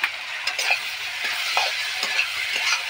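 Soybean chunks go into a spice paste already fried down in oil for an egg and soybean curry, giving a steady close sizzle with several spoon scrapes and soft knocks against the pan.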